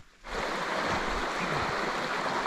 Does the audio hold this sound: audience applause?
no